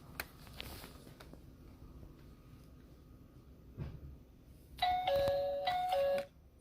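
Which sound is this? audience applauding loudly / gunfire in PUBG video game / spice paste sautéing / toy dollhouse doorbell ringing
toy dollhouse doorbell ringing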